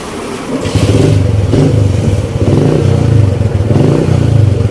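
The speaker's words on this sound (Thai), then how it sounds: "ลองฟังเสียงเครื่องกันครับ" A Yamaha Spark 135 motorcycle with a carburetor, freshly serviced and overhauled with new parts, idles close by with a steady, loud engine throb and slight exhaust rattle, rising in a few brief revs over several seconds.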